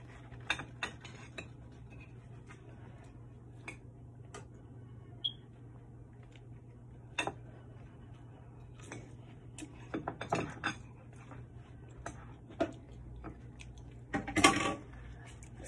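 A knife cutting food into four small pieces, with scattered light taps and clicks of the blade against a plate or board, faint and irregular, a louder clatter near the end.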